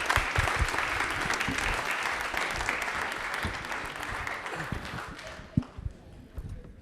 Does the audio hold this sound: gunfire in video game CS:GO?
no